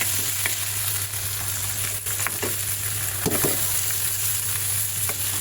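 Sliced onion, dried red chili and whole cumin seeds frying in a pan, a loud continuous sizzle with occasional scrapes from a stirring spoon, close up and without speech.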